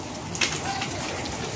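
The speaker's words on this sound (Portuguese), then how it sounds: "Tá começando a querer parar a chuva, gente." Heavy rain falling on a rural smallholding, a dense steady hiss with a brief sharper patter near the start, close and continuous with no talking.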